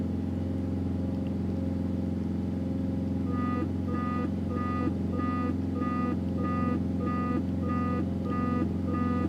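A landing gear warning in a Cessna 210 in X-Plane beeps in a fast, regular pattern. It starts partway through and repeats over the steady drone of the engine.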